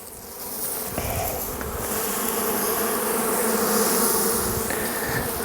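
Honeybees buzz densely and continuously around an open beehive, a close, loud, steady swarm drone with no talking.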